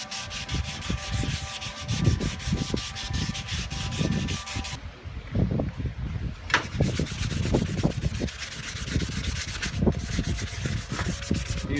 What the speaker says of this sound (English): When you're sanding dry, you really don't want to hand sand